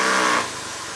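A Honda Beat FI scooter engine revs while riding, a brief loud burst of throttle that drops to a lower hum after a moment.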